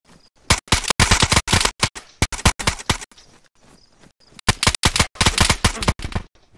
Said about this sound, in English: I could have sworn I just heard gunshot.